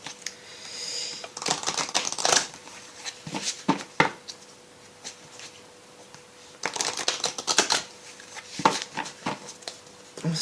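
Fairy oracle cards are shuffled by hand in close, crisp bursts of riffling and flicking. They come in two main clusters with quieter handling in between.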